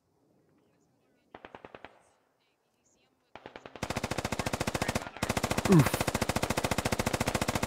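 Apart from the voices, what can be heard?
gunshots and machine gun fire in Squad video game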